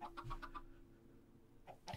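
Chickens in a pen in the video game Minecraft cluck in a quick run of short calls, then fall quiet before a couple more clucks, faint and close.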